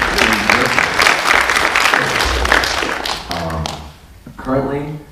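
Audience at a convention panel clapping in a broad, steady wash of applause, with a voice talking over the latter part as the clapping fades.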